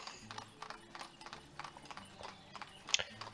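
Horse-drawn carts clip-clop through a village in the game Ostriv, a steady run of hoof knocks at moderate distance, with one sharper, brighter clack near the end.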